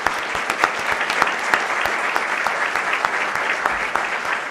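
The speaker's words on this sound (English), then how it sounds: "please, a round of applause for all 6 of our candidates" Sustained applause from a debate audience for six candidates, dense clapping at steady strength throughout with a few sharper individual claps.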